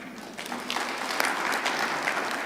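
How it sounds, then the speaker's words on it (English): A summit audience of ministers and officials gives steady applause throughout, a dense wash of clapping at moderate level with no voices over it. "And yes, this is where you applaud again."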